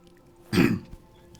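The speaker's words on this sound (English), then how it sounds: "sorry, I had to clear my throat" A single short, gruff throat clearing, close to the microphone, surrounded by near silence.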